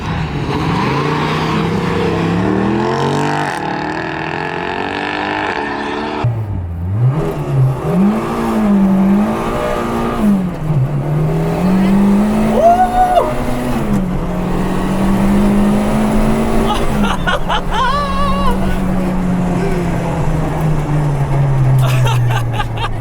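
A boosted Citroen Saxo makes a drag run, its engine loud and close, rising in pitch through several gear changes, with a continuous roar and whine throughout.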